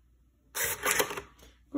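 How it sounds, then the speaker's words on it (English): An Epson TM-m30II receipt printer prints a slip, a brief whirring, rattling burst of feed and print noise up close, followed by a short pause and another click. "Right now the printer printed the IP address, which is the local IP address"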